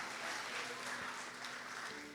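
A church congregation claps steadily together in a continuous, dense burst of applause filling the room, with a faint murmur of voices underneath.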